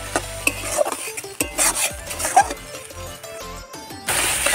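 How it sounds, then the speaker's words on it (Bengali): Tomato paste is stirred and fried in a pan for prawn dopiaza, with quick clattering spatula strokes and scrapes over a light sizzle, ending in a louder burst of frying. "আর এটাকেও ভালো করে নেড়ে এর গন্ধটা না যাওয়া পর্যন্ত একে কষতে থাকবো"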